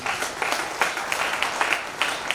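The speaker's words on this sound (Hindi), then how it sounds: "मैं चाहता हूँ जोरदार ताली।" Audience clapping after a call for loud applause, a dense continuous patter with sharp individual claps standing out, filling the room at moderate distance.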